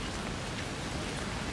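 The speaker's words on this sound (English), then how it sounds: "it's raining." Steady rain pours down near a lake, a dense even hiss of drops with no voices, continuous and fairly close throughout.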